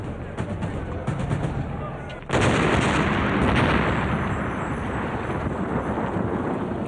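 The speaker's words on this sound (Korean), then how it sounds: "집이 폭파되는 소리가 반군의 귀를 때렸다." A house blown up with C4 plastic-explosive backpack bombs during urban combat: a sudden heavy blast followed by sustained, loud, rumbling roar over continuous battlefield noise.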